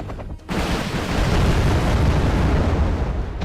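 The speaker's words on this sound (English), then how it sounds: "You can see my attack helicopter catching him in the act." Sustained heavy gunfire and explosions roar from an attack helicopter firing in the PC strategy game Wargame: Red Dragon. The barrage is dense and loud and lasts about three seconds after a brief quieter lead-in.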